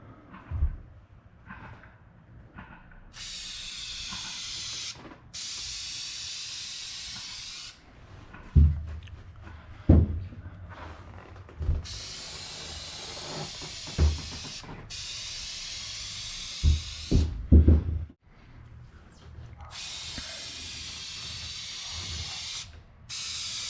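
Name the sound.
spraying a first light coat of clear coat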